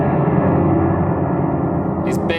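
Orchestral sound masses in the style of Ligeti's 1950s and 60s pieces, a dense sustained cluster of thick harmonies that hums steadily and full, with a faint brighter shimmer entering near the end.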